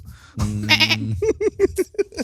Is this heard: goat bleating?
yes